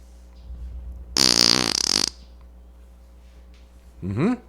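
A cartoonish fart sound effect blares for about a second, a buzzy, wavering rasp, followed by a quiet stretch and then a shorter rising squeaky toot at the end.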